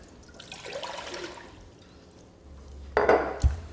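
Water poured into a container to make watermelon pickling brine, a gurgling splash that starts, fades, then returns in a louder burst near the end, heard alone and close up.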